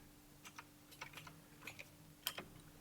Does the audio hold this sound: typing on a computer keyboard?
yes